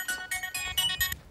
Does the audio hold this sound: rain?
no